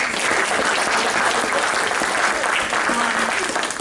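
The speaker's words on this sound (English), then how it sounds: "Let's give them a round of applause" A conference audience applauds panel speakers after a session on humanitarian aid, healing and reconciliation, with dense, loud, continuous clapping from a sizable crowd throughout and a few voices faintly underneath.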